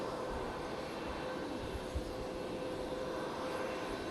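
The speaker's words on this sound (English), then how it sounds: "this aircraft is taking off" An airliner taking off at Fukuoka International Airport, a steady, distant roar of jet engines that stays even throughout, with no talking.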